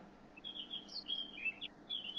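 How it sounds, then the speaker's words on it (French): Small birds chirping beside a forest, a faint run of quick high tweets and short calls repeating every fraction of a second over a quiet low background hum. "Ah, j'entends les oiseaux chez vous, Valérie."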